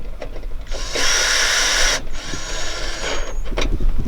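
A power driver runs in a few short bursts, one longer whir in the middle, while bolts are tightened on a Ford Ranger PX window regulator; close, mechanical and without speech.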